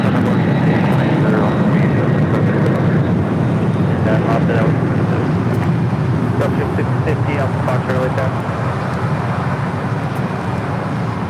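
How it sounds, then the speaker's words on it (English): An MD-11 freighter taking off at LAX gives a continuous, loud, broadband engine roar that holds steady throughout, with voices talking faintly underneath. "That's the MD-11 taking off."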